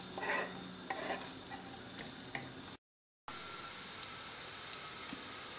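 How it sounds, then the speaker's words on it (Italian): Chopped onion frying in hot margarine and sunflower oil in a pan, a continuous close sizzle with a few stirring scrapes early on, cut by a brief silent gap before the hiss resumes, no talking. "L'olio è caldo, andiamo a immettere la cipolla."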